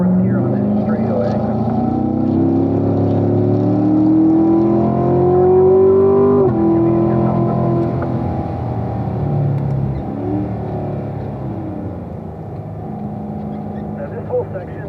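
A Corvette driven on the Spring Mountain race track revs hard and upshifts through the gears, its engine pitch climbing and dropping with each change. It stays loud and steady throughout, with someone talking over the engine.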